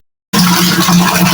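Pump-fed water gushing hard into a 500-liter stainless steel overhead tank, a loud steady rushing and splashing that starts abruptly after a brief silence and continues without a break.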